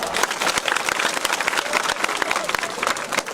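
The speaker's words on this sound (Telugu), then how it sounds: "ఒకసారి గట్టిగా చప్పట్లు కొట్టండి అయ్యా" A crowd of audience members at a spoken gathering claps loudly and steadily together, dense overlapping hand claps filling the space with no break.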